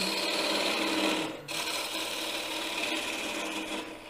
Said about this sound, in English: So I'm going to part it off, giving myself some waste wood.